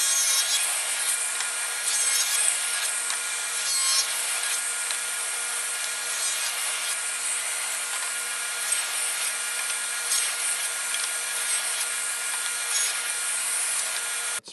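A table saw making repeated rabbet cuts in wood, a continuous high-pitched whirring and cutting noise that stays loud and steady throughout, with no talking, ending abruptly.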